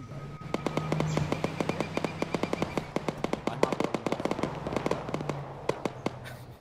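Video game battle gunfire in a military shooter: rapid, uneven bursts of sharp cracks at mid distance, dense and continuous for several seconds, with a voice briefly audible near the start.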